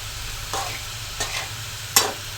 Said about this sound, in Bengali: সবজিগুলো কষিয়ে নিচ্ছি।